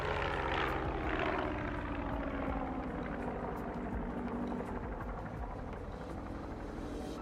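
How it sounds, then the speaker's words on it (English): Propeller aircraft droning overhead in a steady, broadband rumble that holds fairly loud and constant throughout, with no talking. "I hear a plane."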